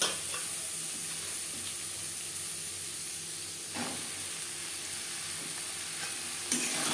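Finely chopped peeled potatoes fry with onion and spice masala in a pan, a soft steady sizzle and hiss with a couple of stirring scrapes, fairly quiet and close, no voices.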